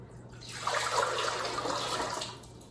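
Water, about a quart, is poured into a bowl in a kitchen as a steady, fairly quiet stream lasting a couple of seconds, swelling and then tapering off.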